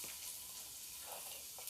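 Finely chopped onions hit about a spoonful of hot sesame oil in a pan for mushroom soup, giving a constant hissing sizzle with faint stirring scrapes near the end.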